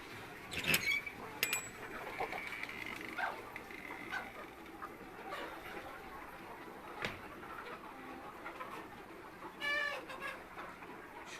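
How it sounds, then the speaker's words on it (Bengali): Sonali hybrid chickens clucking in a poultry farm, scattered soft clucks and brief calls over a low background hum, with a few sharper squawks. "সোনালী হাইব্রিড জাতের মুরগি"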